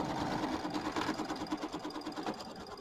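An embroidery sewing machine stitches a fabric placement line for a Kimberbell mini quilt block, a steady rapid mechanical whir and needle patter running continuously, close and moderately loud.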